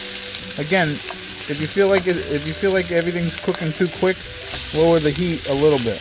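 Whole sausages fry in a pan over medium-high heat, giving a steady close sizzle with crackling that runs beneath someone talking throughout.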